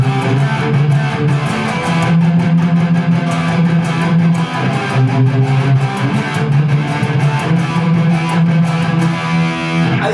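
A distorted electric guitar plays a steady, chugging palm-muted riff, dense and loud, with tight repeated low notes throughout.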